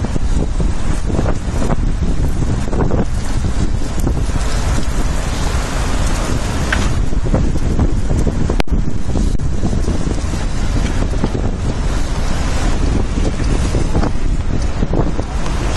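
Strong, cold wind buffets the microphone on a street in Omotesando, a loud, continuous roaring rumble that fills the whole stretch with only one brief dropout.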